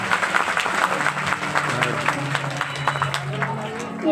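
Loud, sustained clapping from a crowd at a devotional gathering in Gwalior, many hands beating together steadily with a murmur of voices mixed in beneath.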